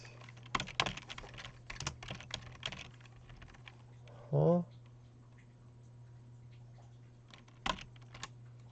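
A computer keyboard is tapped in quick, irregular bursts of keystrokes during Scrabble anagram practice, with a brief spoken interjection and a short pause before typing resumes.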